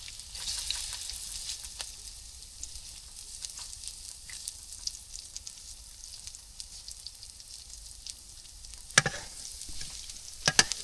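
Onions and spices fry in a pan in a village kitchen, giving a steady, soft sizzle throughout with occasional sharper crackles and stirring clatters toward the end.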